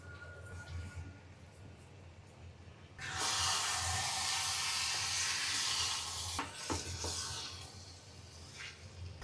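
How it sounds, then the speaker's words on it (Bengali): Polao rice, moong and masoor dal and spiced chicken are mixed together in a pot for chicken bhuna khichuri. A low background gives way to a loud, steady sizzling hiss with stirring that lasts a few seconds and then fades into light clatter. "এই যে আমি পোলাও চাল দিয়ে আর হচ্ছে ডাল সবকিছু একসাথে মাংস দিয়ে মিক্স করে নিচ্ছি।"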